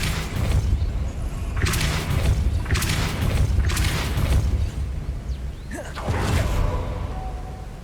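Depulso spell casting in Hogwarts Legacy: four booming whooshes in quick succession, each a broad burst of force, followed by a softer swish.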